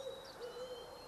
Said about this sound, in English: we have some barred owls mating right now